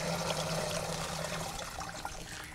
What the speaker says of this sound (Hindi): एक हम 2 लीटर पानी इस स्प्रे में डालेंगे